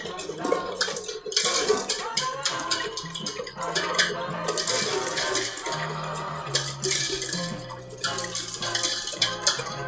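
A whisk beats a vanilla bûche cake mixture in a bowl, giving a loud, steady run of rapid metallic scraping and clinking against the bowl.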